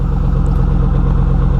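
A 2004 Chevrolet Silverado pickup idles steadily with a deep, throaty Corsa-style exhaust rumble, a continuous low burble held close and loud with no talk over it.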